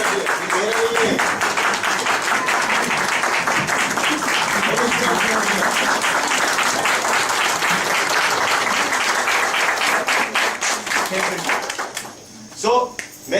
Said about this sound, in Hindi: देखो मेरे लिए ताली मत बजाओ